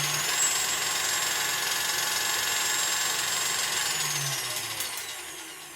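A KitchenAid stand mixer runs at a low speed in a home kitchen, giving a steady mid-pitched motor hum with a high whine that holds throughout and then eases off slightly near the end, with no talking.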